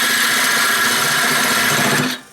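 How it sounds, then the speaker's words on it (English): A wood lathe spins a turning blank for a spinning top while a parting tool marks it, producing a steady, loud motor whine with a rough scraping texture that winds down and stops near the end. "I'm going to use my parting tool and just mark it at 1 inch"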